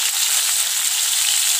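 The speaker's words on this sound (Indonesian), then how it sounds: "Nah, ini kita tumis, tentunya bumbunya matang gitu." Blended spice paste sautéing in hot vegetable oil for a stir-fried slipper lobster dish, giving a steady, close, loud hiss and sizzle with no talking.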